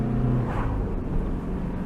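Diesel engine of a Talbot Horizon-type car revving, a loud low rumbling drone with a brief rising rev near the start, then settling into a steady close engine hum.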